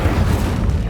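A short, heavy whoosh-boom bursts out as the Incendio fire spell is cast in the Hogwarts Legacy video game, loud and close, fading within a second.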